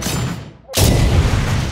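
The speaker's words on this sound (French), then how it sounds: "Après une énorme explosion" A cartoon explosion blows up a flying machine, a helicopter: a brief hush, then a sudden loud boom with a sustained roaring rumble that carries on.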